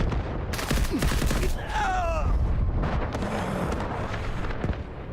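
Artillery barrage in a video game: a sustained, loud wash of booming impacts and rumbling blasts filling the whole stretch, with sharp cracks near the start and end and a voice briefly heard partway through.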